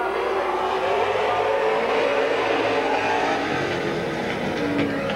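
Race cars roar around the oval at Midvale Speedway in 1999, a dense, continuous wall of engine noise with slight rising pitch as the field accelerates, loud and without speech.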